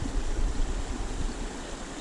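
A mountain creek flows steadily nearby, with a fuller stream coming down alongside a smaller side creek. It is a continuous broadband rush of water, fairly close and even, with no voices.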